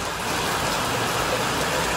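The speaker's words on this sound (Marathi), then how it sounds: "पुन्हा जोरदार पाऊस आला" Heavy rain pours steadily and densely, a loud continuous hiss of drops on surfaces near a roadside petrol pump, with no gaps or other sounds.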